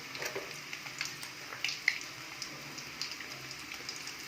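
Eggs frying in a pan with turmeric, chili powder and salt, a quiet steady sizzle with small pops and light clicks, close up, no voices.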